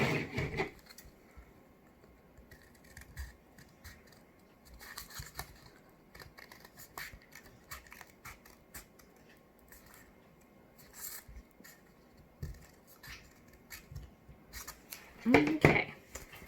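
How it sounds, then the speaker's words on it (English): Scissors snip through a folded paper square in a run of short, crisp cuts spread across the clip, quieter in the middle and loudest near the end, with occasional soft speech between cuts. "So fold it over and then cut out that middle piece again."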